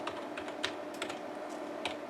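Rapid, uneven keystrokes on a computer keyboard entering a DOS disk command, sharp clicks in short bursts close up with no voices.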